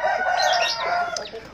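A Bangkok fighting rooster of the pacek type crows loudly and close up, one sustained harsh call that trails off near the end with no other sounds.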